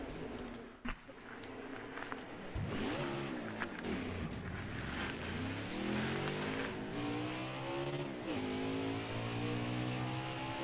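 A race truck from the Xfinity-Truck all-star race laps the Michigan oval. Its engine roars loud and close, pitch climbing and dropping through gear changes, with no voices over it.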